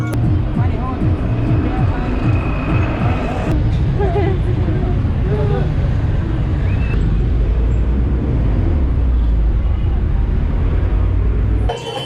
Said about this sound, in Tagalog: Medyo maingay kasi yung sound ng bus.